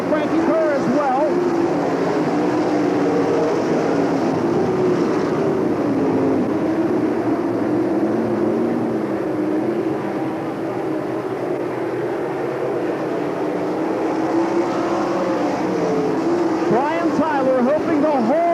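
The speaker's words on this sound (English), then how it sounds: "Coming off the corner, Byron Reed is able to close just a bit" Sprint cars race at Eldora Speedway in a 1997 USAC event, their engines a steady droning whine that swells and fades through the corners beneath nonstop race commentary.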